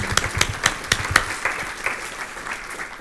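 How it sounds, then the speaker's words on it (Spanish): An audience at a public talk about the One Earth Message project gives a short round of applause. Several loud distinct claps at the start blend into softer scattered clapping that fades, heard alone without speech. "Let's give them a hand."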